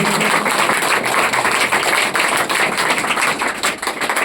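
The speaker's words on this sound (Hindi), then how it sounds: "इनके लिए एक बार जोरदार ताली आप लोग स्वागत करें" An audience applauds at a Saraswati Puja event, with dense, sustained clapping from many hands filling the space, loud and close throughout.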